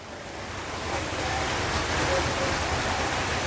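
Floodwater surrounds a town bus stand in Kondotty, Kerala, a continuous broad rushing wash that swells slightly and holds steady, with faint wind-like noise over it.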